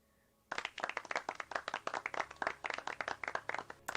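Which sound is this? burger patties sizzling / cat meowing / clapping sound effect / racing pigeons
clapping sound effect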